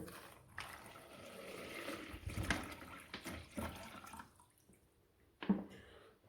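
Tap water runs into a bottle, splashing and gurgling unevenly at a moderate distance, then tapering off with a final clunk.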